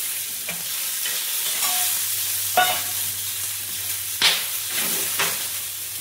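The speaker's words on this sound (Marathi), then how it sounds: "थोडंफार मिरच्या भाजून तुम्ही, अरे वा, असं चटकले पाहिजे मिरच्या एकदम झणझणीत" Green chillies roast in a little oil in a pan, giving a steady close sizzle and fry with stirring scrapes and a few sharp crackles and pops, no voices.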